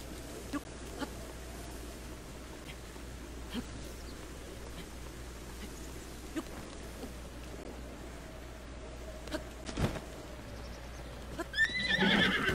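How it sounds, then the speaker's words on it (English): Horse in The Legend of Zelda: Breath of the Wild, out in the rain, neighing and bucking, faint ambient patter with a short loud whinny and scuffling at the end. "If it bucks you off like that, that's a good indicator it's a good horse."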